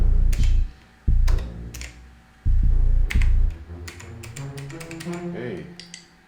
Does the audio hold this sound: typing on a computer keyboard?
yes